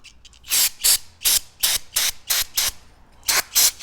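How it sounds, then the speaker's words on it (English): Carburetor cleaner sprays in about ten short, sharp hissing bursts in a quick uneven rhythm, close and loud, with no talk. "just take your cleaner, give it a good few sprays"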